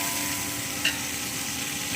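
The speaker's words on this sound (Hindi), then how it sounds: "ऑयल हमारा गर्म हो रहा है। अब हमने इसमें शामिल कर दिए हैं प्याज।" Onions sizzling in hot oil and ghee in a large pot for chicken pulao, a steady soft hiss with one brief stirring clink, and no talking.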